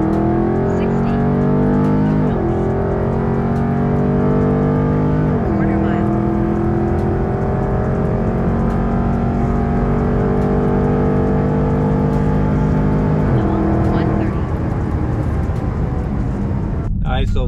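A Dodge Charger 392 Scat Pack accelerates hard from highway speed toward 130 mph, its loud V8 engine climbing steadily through several gear shifts heard as repeated drops in pitch, with a voice talking over the engine.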